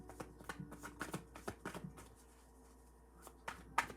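Tarot cards are shuffled and drawn by hand, producing a quick run of close, crisp riffling flutters and slaps, a short pause, then a few more sharp card snaps.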